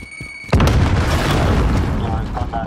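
A grenade goes off in Call of Duty: Modern Warfare with a sudden loud boom after a brief quiet moment, then a long rumbling tail of debris and ringing.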